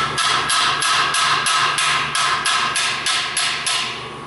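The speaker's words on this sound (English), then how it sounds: "If you don't want to break something, hit it with a brass hammer." A brass hammer taps a bushing on a Toyota Rav4 2AZFE engine in a steady run of about eight sharp metallic strikes, evenly spaced and loud, gradually easing off at the end.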